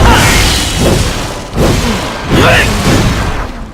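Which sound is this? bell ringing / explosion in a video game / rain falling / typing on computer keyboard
explosion in a video game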